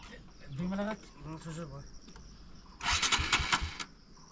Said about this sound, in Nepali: बाइक स्टार्ट गरेछ केटाहरू